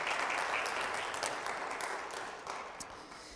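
A church congregation applauds, a dense wash of clapping that starts full and slowly tapers off over a few seconds, heard from a distance in a large room.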